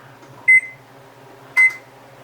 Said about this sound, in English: We need to preheat the oven.